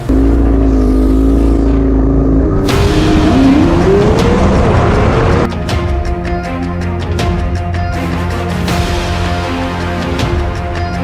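Cars in the Drag Times versus Demonology drag race, with a Dodge Demon among them, roar loudly throughout, engines rising in pitch and tires squealing, with sharp bursts near the middle and a steady dense engine din.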